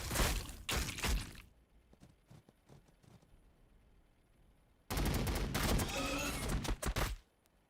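Gunfire crackles in the Warhammer Battlesector video game: a dense volley of sharp shots, then a lull with scattered faint pops, then another loud, crowded burst of firing.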